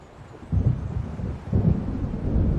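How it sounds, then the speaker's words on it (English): Thunderstorm in the video game Alan Wake Remastered: deep rolling thunder rumbles in two swells over a steady wash of rain, loud and close, with no voices. "It seems there's a storm coming."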